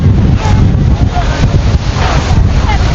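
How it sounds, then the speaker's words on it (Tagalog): Loud, strong wind roars and buffets the microphone continuously in Dingalan, Aurora, at dusk, with water and surf noise mixed beneath it. "Pero lakas ng hangin talaga"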